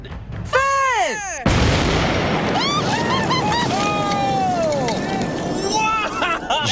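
An explosion knocks down a tree outdoors with a sudden, loud blast and a roaring, debris-filled rumble that lingers. Excited voices whoop and shout over the aftermath.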